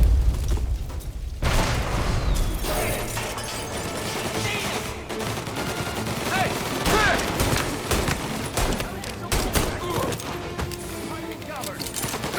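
Gunfire in Mafia: Definitive Edition, with repeated sharp shots and bursts in fast clusters, some loud and close, others further off, under shouted voices and game sounds.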